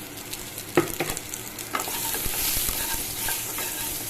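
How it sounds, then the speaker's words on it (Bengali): Spices with turmeric powder and salt fry in a pan, stirred with a few sharp utensil scrapes over a building sizzle that grows brighter and steadier toward the end. "এই যে হলুদ গুঁড়ো দিয়ে দিচ্ছি, আর সামান্য পরিমাণে এখানে নুন দিয়ে দিলাম"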